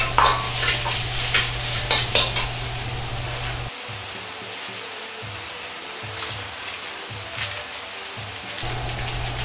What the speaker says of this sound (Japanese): ねぎの甘みを早く引き出すために砂糖を少量入れ炒めていきます。